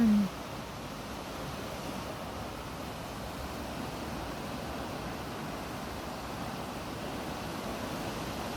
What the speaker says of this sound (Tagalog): Wow, ang lakas ng alon.